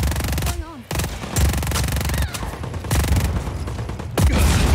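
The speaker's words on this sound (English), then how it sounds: "What is that? SW9 assault rifle." SW9 assault rifle fire in Just Cause 4, loud close-range automatic bursts that rattle almost continuously and break off briefly a few times, with a short voice cutting in between the bursts.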